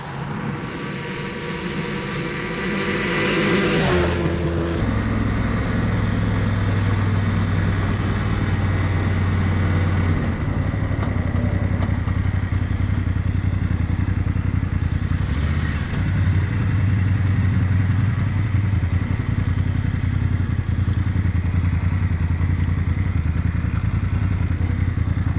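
A motorcycle rides on steadily on a touring trip through the Picos de Europa toward the Pyrenees, its engine a loud, continuous drone that rises as the bike accelerates early on, with wind rush and occasional traffic passing close by.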